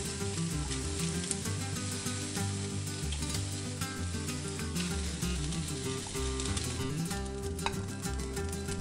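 Steady sizzling of vegetables roasting on a hot griddle, close and continuous, with occasional faint clinks of utensils and no talking.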